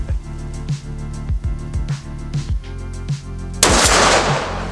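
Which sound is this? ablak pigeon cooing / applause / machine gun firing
machine gun firing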